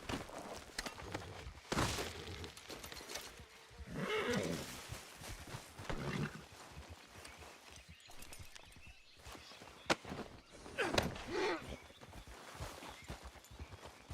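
Horse in the Red Dead Redemption 2 video game, with whinnies and neighs rising at intervals over soft hoofbeats and a busy game soundscape, moderately loud and close.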